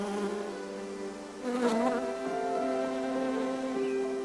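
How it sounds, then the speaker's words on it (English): Bees buzz among late-spring garden flower beds and borders, a continuous droning hum that swells loudly about halfway through as one passes close, then settles into a steady nearby buzz with no voices. "By late spring, our flower beds and borders are abuzz with bees."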